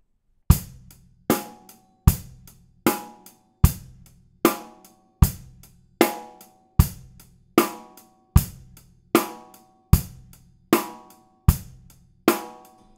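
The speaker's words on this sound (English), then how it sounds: "apply this to a very simple drum beat, 2 and 4 on the snare, and kick drum on 1" A simple rock drum beat: kick on one, snare on two and four, and hi-hat accented on each downbeat, about thirteen evenly spaced hits played close and clear with no talking.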